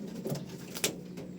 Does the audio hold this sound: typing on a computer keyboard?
no